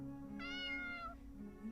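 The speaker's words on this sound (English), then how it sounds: "This cat is trying to tell me something." A domestic cat meows once in a drawn-out, tonal call within the video game Tales of the Black Forest, clear and fairly close, with no talking over it.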